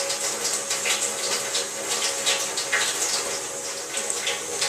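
Water runs steadily from a faucet into a sink during hand washing, a continuous close splashing hiss with no voices.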